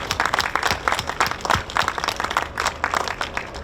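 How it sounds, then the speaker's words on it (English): Audience applause for donors at a hospital MRI groundbreaking ceremony, a few seconds of dense, steady clapping from a modest crowd, fairly close and moderately loud. "Big round of applause."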